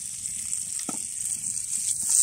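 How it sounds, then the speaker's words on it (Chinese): Food is stir-fried in a wok over a dry-wood campfire at a camp in Jasper National Park. A steady, bright sizzle holds throughout, with a brief clink of the utensil partway through. "平时在家里不能爆炒，在这儿非得爆炒一下"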